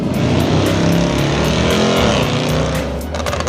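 A loud car rushes along the corniche road in Ras Al Khaimah, its roar steady and close for the whole stretch, easing slightly near the end.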